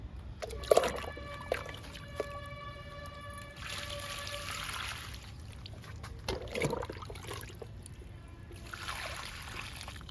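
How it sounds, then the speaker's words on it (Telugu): Water is poured and trickles onto freshly planted indoor cuttings of syngonium, coleus and money plant, in a few short splashing bursts over quiet background music. "వీటన్నిటికీ వాటర్ ఇద్దాము"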